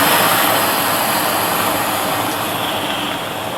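A HoverTech patient repositioning air blower runs continuously, a loud, steady broadband rushing hiss and motor drone, close to the listener with no pauses.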